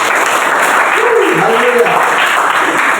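A congregation at a joint worship service with a school ministry team applauds together for a few seconds, and voices call out over the steady clapping.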